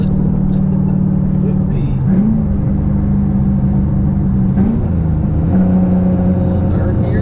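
Turbocharged Camaro, previously misfiring on seven cylinders and now repaired, pulls hard at wide open throttle: a loud, continuous engine drone rising and shifting pitch inside the cabin, with a brief spoken word over it.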